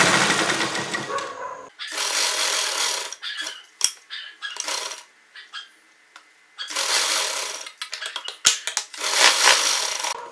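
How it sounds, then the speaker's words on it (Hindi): A sewing machine stitches the corners of a short jacket in loud, rapid bursts separated by pauses where the needle is set and the fabric turned, with a few sharp clicks between runs. "हम सुई को यहाँ अंदर रखेंगे, फुट उठाएंगे और टर्न लेंगे।"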